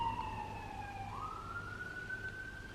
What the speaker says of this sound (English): lots of sirens, I don't know if you can hear that.